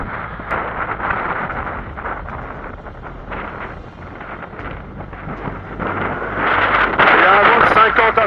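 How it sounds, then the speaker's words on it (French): Strong gusting wind on the ascent of Puig Peric buffets the microphone in a steady roaring rush that swells louder toward the end. "Il y a beaucoup de vent ce matin"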